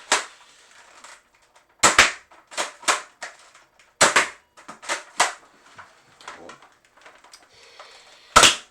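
X-Shot Berserko foam dart blaster firing foam darts at a target, a string of sharp, loud pops in uneven bursts with quiet gaps between, the last shot standing alone at the end.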